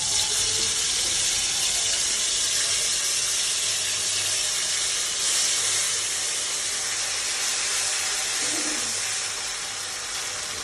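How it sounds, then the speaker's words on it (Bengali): Ground cumin and coriander paste sizzles in hot oil with a loud, steady hiss that fills the clip and eases slightly toward the end. "তেলটা গরম হয়ে গেছে, আমি এই পেস্ট করা মশলাটুকু দিয়ে দেবো"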